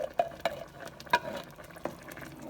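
Mexican fiesta soup with undrained canned pinto beans bubbling in a pot, heard as quiet scattered pops and soft liquid blips at close range with no talking.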